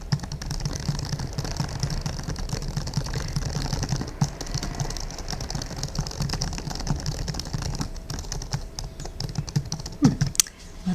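Steady, soft typing on a computer keyboard runs continuously in a quiet indoor setting, with dense clicking keystrokes at an even, close level and one slightly sharper tap near the end.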